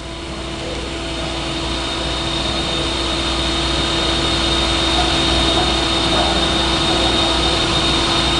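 Two Verteq 1800 spin rinse dryers spinning at a steady 1200 RPM, giving a loud, continuous mechanical whir with a low hum and a constant high whine throughout.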